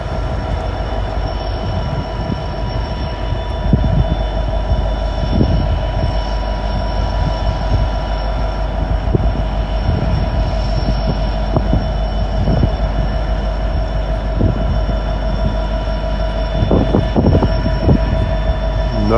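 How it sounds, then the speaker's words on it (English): A long manifest freight train rolls steadily through Gallitzin, Pennsylvania, pulling away with a continuous loud rumble of cars, wheel clatter and a sustained high wheel squeal over a constant drone, with no one talking. "Okay, the manifest train's moving."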